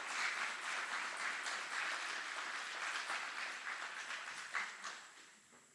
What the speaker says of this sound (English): Please join us in giving a round of applause to these outstanding drill sergeant and instructors.